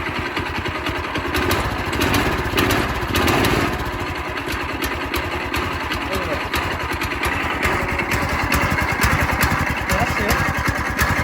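A 6.5hp engine on a Carter two-seater go kart, model 2336ZX, running on full choke: a loud, rapid, uneven putter close by, with people talking over it throughout.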